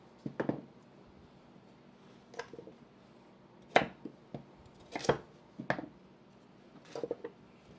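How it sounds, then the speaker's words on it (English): A knife cuts carrots on a board in a home kitchen, about a dozen sharp, separate chops in an uneven rhythm with quiet pauses between them, close and clear with no talk. "we will cut our carrots"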